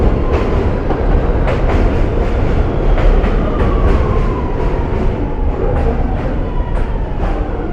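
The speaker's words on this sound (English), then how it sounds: "This is a Brooklyn bound A train." A Brooklyn-bound A train on the New York subway running at speed, a loud steady rumble with rhythmic clickety-clack of wheels over rail joints and a faint whine, heard from inside the car with no talking.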